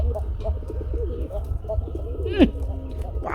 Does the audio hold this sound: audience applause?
no